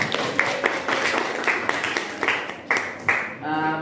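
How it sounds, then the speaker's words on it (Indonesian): Classroom applause for group 5 comes as a run of scattered, uneven claps, fairly close and moderately loud, ending in a brief tonal sound at the close. "Tepuk tangan dulu dong buat kelompok 5"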